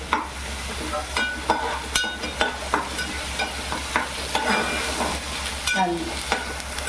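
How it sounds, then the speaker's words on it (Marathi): Green chilli, garlic and ginger sauté in a pan for a mixed vegetable bhaji, a loud continuous sizzle with rhythmic stirring scrapes and clinks over a low background hum, no voices. "लसूण अद्रक आणि मिरची याची परतून घ्यायची"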